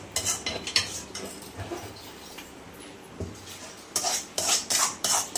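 A spoon scrapes and clinks against a metal pan while stirring thick mawa peda mixture off the heat, with irregular soft scrapes growing into quicker, louder clatters.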